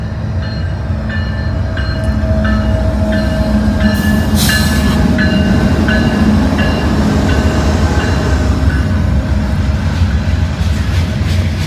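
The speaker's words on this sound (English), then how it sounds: "we got a steel coil train" A Norfolk Southern steel coil freight train rolls steadily past at close range, a loud continuous rumble with rhythmic wheel clacks repeating over the rails.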